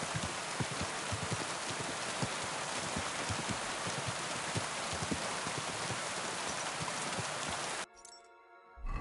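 Steady clip-clop of horse hooves from the video game Kingdom Come: Deliverance II at a brisk, even pace under a dense hiss like rain, cutting off abruptly near the end.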